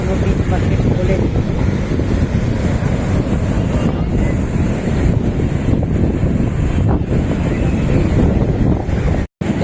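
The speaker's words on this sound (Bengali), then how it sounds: "আর এই যে সমুদ্র দেখো" Sea waves and strong wind at Puri beach, a loud, continuous roar of surf with heavy wind buffeting the microphone throughout, cut by a brief dropout near the end.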